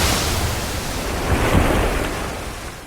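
Flood water rushes in a dramatized scripture reading, a dense roaring surge like heavy surf that builds slightly near the middle and then eases, with no voices over it.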